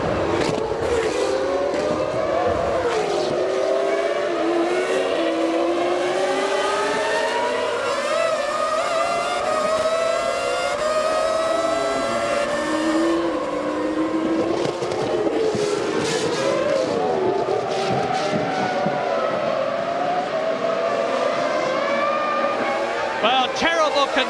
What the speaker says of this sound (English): We're with Jacques Villeneuve now, looking ahead at the McLaren of David Coulthard